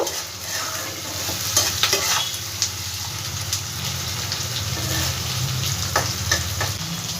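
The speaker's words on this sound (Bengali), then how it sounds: "এবার এর মধ্যে পেঁয়াজ ভাজতে ভাজতে আমি স্বাদ মতন নুনটাও দিয়ে দেবো।" Onions with salt fry in a pan, a continuous close sizzle with scraping stirs and occasional clinks of the spatula against the metal, steady and fairly loud throughout.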